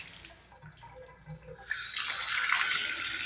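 Hot water runs from a tap in a rental home: a few faint drips and small clattering sounds, then a steady hiss of the flow gushing into the sink, close and continuous.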